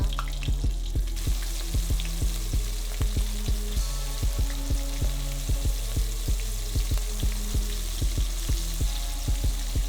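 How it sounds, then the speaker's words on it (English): Onion rings frying in hot grapeseed oil heated to about 425 degrees, a steady close hiss and crackle of sizzling oil, heard with a regular thumping beat from background music. "as soon as it's hot, I'm dipping in my onion rings"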